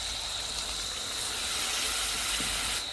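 Water poured into a pan of fried chicken sets off a loud, steady hiss of steam and sizzle that runs without a break for about three seconds, with no voices.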